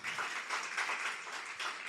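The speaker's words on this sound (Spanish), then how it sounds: "Denle un aplauso al Señor." Faint applause from a church congregation, a continuous patter of many hands clapping at a distance without any talking.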